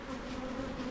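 Honey bees hum inside an opened hive box, a steady close buzzing drone with a few individual insects passing near, and no speech.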